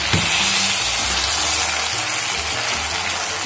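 A pot of keema-stuffed karela with yogurt is mixed, giving a steady wet sizzling and stirring texture that stays loud and even throughout, with no voices.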